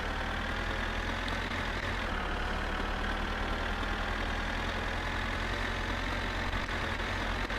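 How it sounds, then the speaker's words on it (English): A tractor engine in the My Summer Car game runs steadily at a constant drone, loud and close with a heavy low rumble and no breaks. "See how this tractor's going, clipping along now?"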